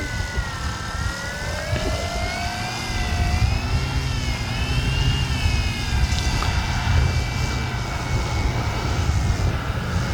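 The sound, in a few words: Flex Innovations RV-8 G2 RC plane doing grass hops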